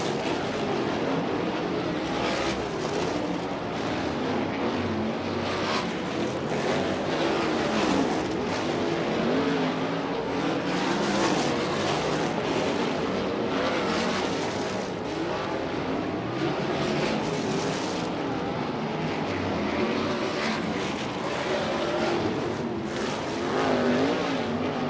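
Sprint race cars roaring around a dirt oval during USAC National Sprints hot laps at Lawrenceburg Speedway, a loud, continuous engine din with cars rising and falling as they pass, no voices.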